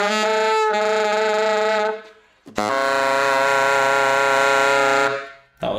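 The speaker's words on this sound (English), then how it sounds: "All the multiphonics nicely pop out." Two long, dense saxophone multiphonics on a Lineage sax, each a buzzing stack of tones held for a few seconds with a short break between, loud and up close, with no talking.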